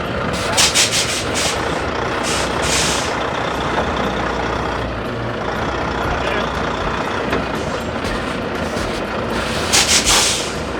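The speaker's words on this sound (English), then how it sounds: "The air you're starting to hear now is being engaged in the diff lock" A truck's air system hisses as the differential lock engages for four-wheel drive, a loud continuous rushing hiss with rumbling engine underneath and bursts of sharper air noise near the start and end.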